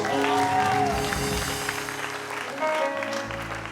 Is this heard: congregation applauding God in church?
yes